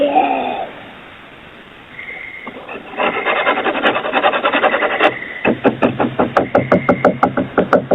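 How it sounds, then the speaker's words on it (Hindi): Scratching picked up by a doorbell camera, with a wooden rasping rub that starts in irregular bursts and settles into a fast rhythmic series of close, harsh strokes. "वीडियो में तुम आसानी से सुन सकते हो कैसे खुरचने की आवाज़ें आ रही है"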